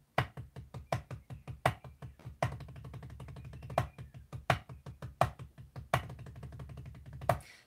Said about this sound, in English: I play 16th notes with a single, you know, single strokes